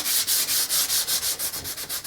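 Rhythmic back-and-forth sanding strokes rasp along the grain of a wooden countertop, about a dozen even passes in quick, steady succession, close up.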